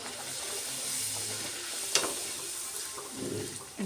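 Puri dough dipped into hot oil in a cooking pan gives off a steady, soft hissing sizzle with a brief louder crackle midway, close by and with no talking.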